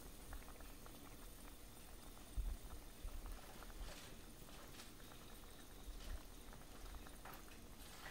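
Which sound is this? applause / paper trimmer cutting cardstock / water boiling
water boiling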